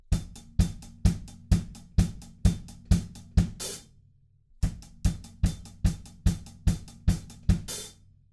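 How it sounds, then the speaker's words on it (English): Drum groove from a song outro: steady four-on-the-floor kick drum with hi-hats, each bar ending in a short open hi-hat sizzle, then a brief gap before the pattern repeats. No one speaks. "So that's hi-hats, kick drums,"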